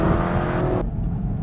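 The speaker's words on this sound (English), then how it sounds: "On the track in the Hellcat. And we are go for launch." A 2015 Dodge Charger Hellcat launches hard on a track, its engine roaring loud and steady as it revs up, the upper tone dropping away partway through while the deep drone carries on.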